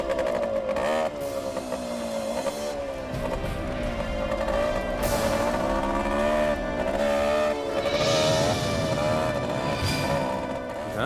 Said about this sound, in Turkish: Nereden geliyor bu motor sesi?